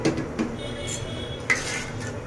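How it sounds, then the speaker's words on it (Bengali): A pot of milk set onto a kitchen stove, heard as a couple of close metallic clunks and scrapes of cookware against the burner, with a sharper clank near the end over low kitchen background noise. "হ্যাঁ, এই যে চুলায় বসিয়ে দিলাম।"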